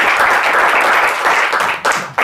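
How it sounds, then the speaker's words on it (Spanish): An audience applauds to welcome a professor before a talk, with dense, loud clapping that holds steady for about two seconds and then breaks off abruptly. "recibamos con un aplauso al profesor"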